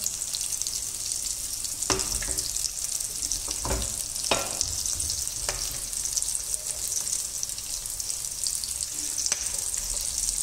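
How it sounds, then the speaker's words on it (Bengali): Vegetable chops deep-frying in oil make a loud, steady bubbling sizzle, with occasional sharp clicks and scrapes as pieces are turned, close and without talk. "আমার চপগুলো ভাজা প্রায় হয়ে এসছে"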